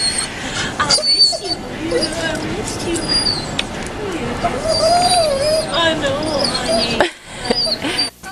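A dog whimpers and yips in high, wavering whines through most of the stretch, close and fairly loud, while people talk over it nearby.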